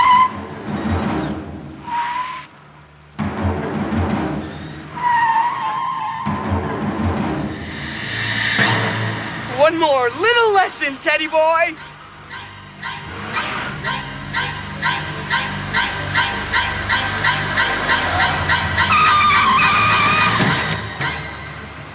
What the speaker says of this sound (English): let's give these brakes a little test, shall we?